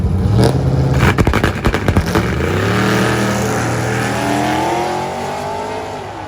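A supercharged Whipple Shelby and an Alpha 7 GT-R racing head to head: loud engines rev hard with rapid gear-change bursts, then a sustained roaring pull with rising pitch as the cars accelerate away.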